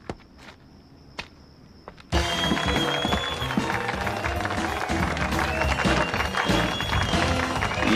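Applause and cheering from a crowd in an animated superhero cartoon bursts in after a couple of sparse claps and taps, then holds as a loud, dense, steady roar of clapping with whistles and voices mixed in.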